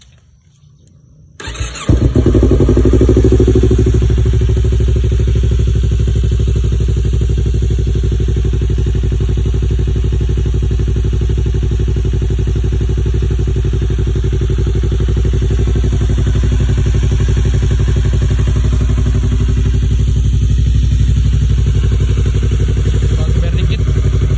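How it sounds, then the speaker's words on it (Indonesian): Yamaha R25 V1 motorcycle engine fitted with a Kazan aftermarket exhaust starts up and then idles and revs steadily, loud and close for over twenty seconds with a deep, continuous rumble. "Ya kita coba spill suaranya dari knalpot Kazan ini."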